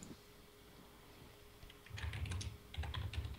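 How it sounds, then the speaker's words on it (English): Typing on a computer keyboard starts after a quiet stretch, with fast clusters of clicking keystrokes close by, pausing briefly before another burst. "You guys still typing?"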